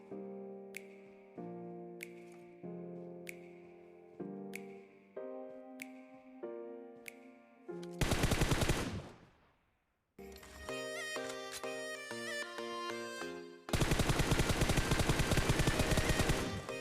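Gunfire in the battle-royale game PUBG at Pochinki: repeated sharp cracks over a rhythmic game tune, then two long, loud, dense bursts of automatic fire separated by a short lull.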